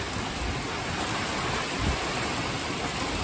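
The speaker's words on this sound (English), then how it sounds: "The storm just ripped in here, man." Heavy rain pours down without a break during a thunderstorm, with low rumbles of thunder rolling beneath it and no voices.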